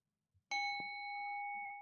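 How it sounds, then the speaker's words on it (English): A single bell is struck once during a meditative session, giving a clear bright ding that rings on as a long, steady sustained tone, alone with no talking over it. "when I ring the bell"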